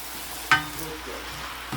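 Udon noodles with tofu, vegetables and a splash of fish sauce are stirred in a pan: one sharp scrape of the utensil, then a soft, low sizzle that continues quietly, with another brief stir near the end.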